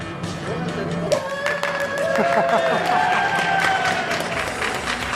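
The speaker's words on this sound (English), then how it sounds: "Applause-O-Meter. It's a really easy, highly technical way of cheering your best friend on" A live audience applauds and cheers on cue for an Applause-O-Meter at a fashion show, a steady dense wash of clapping with whoops and shouting voices over it throughout.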